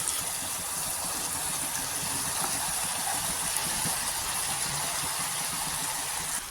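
Fried chicken tipped into a pan of chilli chicken sauce with onion and capsicum, giving a steady loud hiss of sizzling oil that holds without a break, no voices over it.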